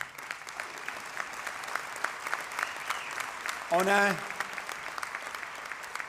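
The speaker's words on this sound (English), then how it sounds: "je veux qu'on donne un bon applaudissement pour ces gens" Steady applause from a union crowd at a Montreal political rally, sustained and even throughout, with a brief spoken word and a short voiced exclamation rising above the clapping near the middle.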